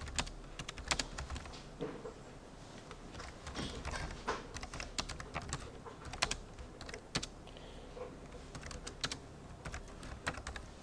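Steady, irregular clatter of keystrokes on a computer keyboard while Java code is typed, close and fairly quiet, with no speech.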